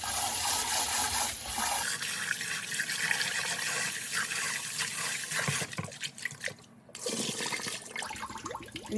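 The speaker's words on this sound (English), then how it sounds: "You can definitely use a strainer if you're not a lifelong expert in straining rice through your fingers." Rice is rinsed by hand in water for coconut rice, heard as close splashing, swishing and trickling of water, with running-tap noise and sharper sloshes toward the end; no one speaks.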